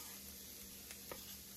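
Salted cod fish going into a hot pan, giving a steady, soft sizzle and frying crackle with faint stirring noises and no voices.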